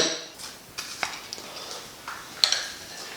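Almonds being stirred into a healthy fruit salad bowl: a spoon scraping and clinking against the bowl in several light, irregular knocks over a faint background.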